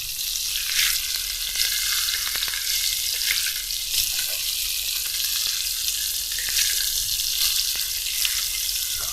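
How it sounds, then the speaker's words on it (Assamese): Fish sizzles and spits steadily on a hot tawa pan in a home kitchen, a loud, close, continuous crackle with no talking. "মাছখিনি তাৱা বহাই দিলোঁ এতিয়া।"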